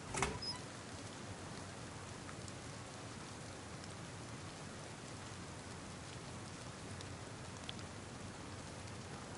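Rain falls in the video game DayZ as a faint, steady, even hiss with soft scattered patter throughout and no voices.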